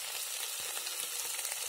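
Ingredients fry in a pan with a steady, close sizzle and crackle, broken by a few soft stir knocks, and no voices.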